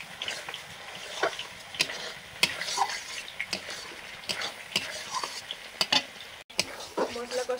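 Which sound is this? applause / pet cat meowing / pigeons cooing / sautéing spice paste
sautéing spice paste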